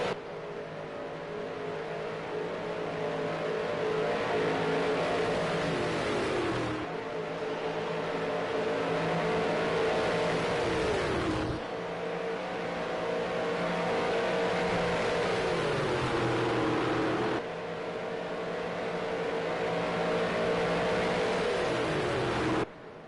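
A pack of race cars at Texas Motor Speedway roars past in repeated waves, each engine drone rising and falling in pitch as it sweeps by, loud and sustained with no voices.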